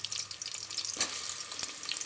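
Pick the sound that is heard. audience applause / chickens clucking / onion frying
onion frying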